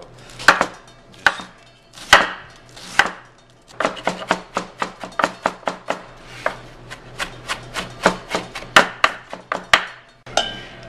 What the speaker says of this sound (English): I'm going to cut this in half, and we're going to shred this cabbage